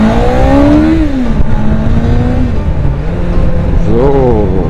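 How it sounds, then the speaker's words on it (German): A Yamaha XJ600 motorcycle with an old carbureted engine accelerates on the road, its engine note rising and shifting through gears, close and loud over steady wind rumble. "Noch einmal Gas geben mit der Diva."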